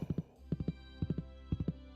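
Hooves of a horse in the Stardew Valley farming game clip-clop in quick, evenly spaced clusters of three or four beats, close and crisp, with no talk over them.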